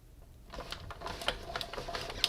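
A paper cutting machine slicing through card stock for easel note cards, giving a close run of short mechanical clicks and rasping cuts over about two seconds, with a sharper snap near the end.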